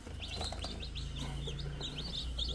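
One-day-old Rhode Island Red chicks chirp continuously at close range, a dense overlapping chorus of high peeping calls with a low steady background hum beneath.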